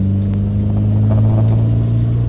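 A 1972 Austin Maxi 1750 engine pulls under acceleration while driving, heard from inside as a loud, steady low droning rumble with a slight rise in pitch.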